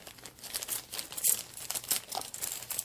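A small plastic bag holding earrings crinkles close up in bursts of dry, papery rustling that rise and fall over a few seconds, with no voices.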